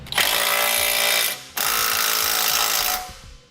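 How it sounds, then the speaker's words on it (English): Two long bursts of rapid mechanical rattling as a power tool with a 15mm socket tightens bolts on a Blue Ox base plate on a 2018 GMC Acadia, loud and close with a short pause between. "You can now go back and tighten down all your hardware. You'll do this with a 15mm socket or wrench."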